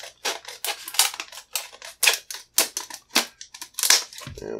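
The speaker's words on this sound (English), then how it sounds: "Let me grab my Fiskars here, my favorite scissors. Get this heavy duty clamshell off of here." Fiskars scissors snip through heavy duty plastic clamshell packaging in a quick series of sharp, close crunching cuts, about a dozen uneven bursts separated by brief pauses.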